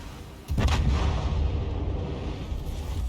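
Ship guns on the destroyer Mogador fire in a naval video game: one sudden heavy boom after a brief quiet, then a rumbling roar that slowly fades but stays loud.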